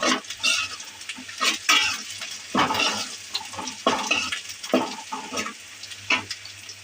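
Onions with two bay leaves fry in a pan while a spatula stirs them, producing repeated scraping bursts over a soft sizzle in an uneven rhythm.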